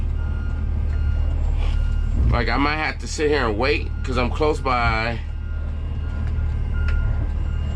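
A garbage truck backing out, its reversing alarm beeping steadily throughout over the low idle of the engine while someone talks close by in the cab.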